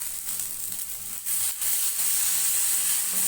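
Ginger halwa roasts in a pan with a steady, bright sizzle and soft hiss, punctuated by a few faint stirring scrapes, and no one talks.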